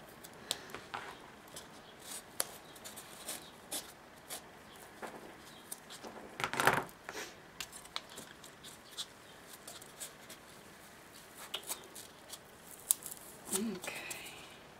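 Faint, intermittent snips of scissors cutting paper close by, with soft rustling and handling noises in a quiet room.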